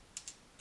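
A few quick, faint keystrokes on a computer keyboard, two light clicks and then a third, close and very brief over a quiet room.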